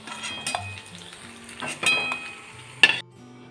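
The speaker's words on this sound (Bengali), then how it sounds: "বাকিগুলো এইভাবে ভেজে নেব" Jackfruit seed kofta balls frying in hot oil give a steady, soft sizzle, with a few sharp clinks of a utensil against the pan.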